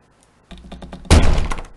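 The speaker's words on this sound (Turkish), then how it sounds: "Kapıyı üstüme kapattım burada." A door slams shut in the horror video game Layers of Fear, a sudden loud heavy thud with a cracking edge that lingers briefly, preceded by softer knocking or creaking sounds.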